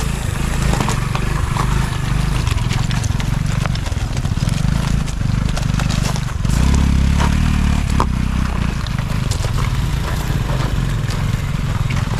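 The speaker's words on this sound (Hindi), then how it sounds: "रिजवान भाई मुश्किल रास्तों से बाइक को गुजारते हुए माशाल्लाह बहुत अच्छी बाइक चला रहे हैं" A motorcycle rumbles over a rough, rocky track in Balochistan, its low engine drone continuous and loud, with rattling and clattering from the bumpy ground throughout.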